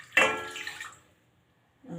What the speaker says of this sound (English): the saucepan and we add some water